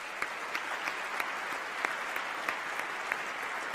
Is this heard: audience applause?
yes